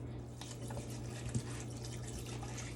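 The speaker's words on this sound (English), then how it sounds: "you're just going to pour it, just use a bottle, okay? Pour it over the Seamoss." Spring water pours from a bottle over sea moss in a bowl, a soft continuous trickle and splash with a low steady hum behind it, faint and close.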